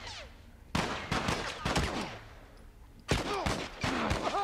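Gunfire in The Last of Us, with several loud close shots fired in two clustered bursts, each crack followed by a ringing echo and ricochet-like tails, separated by a brief lull.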